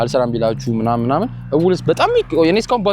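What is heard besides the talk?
None of the usual background noises is heard.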